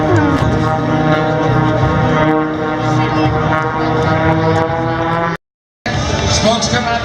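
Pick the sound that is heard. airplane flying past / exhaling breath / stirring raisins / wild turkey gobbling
airplane flying past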